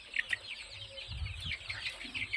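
Farm chickens cluck softly and continuously, with a few higher clucks and low murmurs, heard faint and somewhat distant with no talking.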